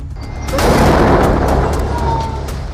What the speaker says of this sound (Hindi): टैंक आता है और कुछ सेकंड बाद होता है बहुत बड़ा धमाका।